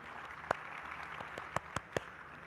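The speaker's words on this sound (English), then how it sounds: "I'm clapping for all the women in the room." A few sharp hand claps, a single one then three in quick succession, faint against a quiet room hum.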